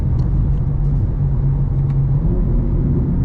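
A 2024 BMW M2 CS with a tuned transmission rumbles in a steady, loud low drone during paddle downshifts, heard close from inside the car, with no talking.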